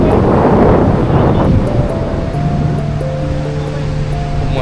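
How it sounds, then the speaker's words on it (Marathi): Strong wind buffets the microphone at Devbag beach while surf rolls in, a loud rushing roar that eases slightly, with a faint low drone and musical tones later. "खूप मस्त वारा सुटलाय बीचवरती"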